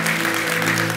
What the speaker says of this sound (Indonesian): Berikan tepuk tangan buat Tuhan yang paling meriah